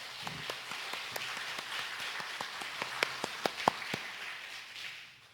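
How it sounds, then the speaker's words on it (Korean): A church congregation claps in glory to God, sparse and irregular at first and then firmer, with scattered sharp claps over a soft room murmur. The clapping thins out toward the end. "우리 하나님께 영광의 박수 올려드리겠습니다."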